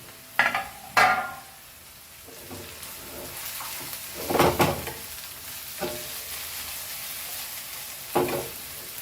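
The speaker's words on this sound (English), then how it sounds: "Now let's add our cabbage to this and fry this too." Shredded cabbage stir-fries in a wok for beef fried rice, with soft sizzling under several sharp scraping spatula strokes spread through the stretch.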